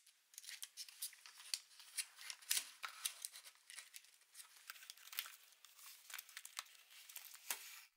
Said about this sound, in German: Zum Einpacken und Verschenken nehme ich hier eine alte Schokoladenverpackung, die ich mit Geschenkpapier und einer durchsichtigen Folie beklebt habe.